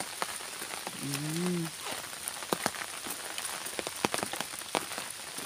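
Rain patters on an umbrella held over someone walking outdoors in rural Mindanao. Constant close hissing rain mixes with sharp, irregular drop taps on the canopy, and a brief faint voice sounds early on.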